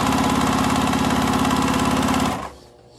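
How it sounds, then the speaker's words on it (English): A sewing machine stitches a seam on a fabric shopping bag, producing a loud, rapid, even mechanical whir that runs for over two seconds and then stops abruptly. "just make sure that you're only sewing through where you need to"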